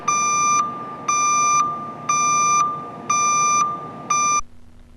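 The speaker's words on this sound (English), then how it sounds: "the bars flash and an audible beeping system begins" Five evenly spaced electronic low-battery warning beeps from a JLG MVL vertical lift sound loud and clear, each about half a second long, over a faint background hiss.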